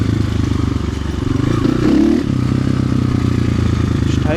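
Chinese-tired dirt bike engine droning steadily as it creeps down a steep, slick slope, with a brief louder rev and clattering scrape midway before settling back to a constant close, loud hum.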